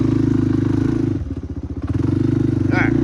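A 1988 Yamaha Moto 4 ATV engine runs steadily through a test ride, a loud, close, low throbbing idle that dips and lurches briefly mid-ride before settling back to an even putter.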